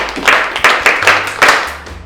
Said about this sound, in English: Please clap for her. Keep clapping.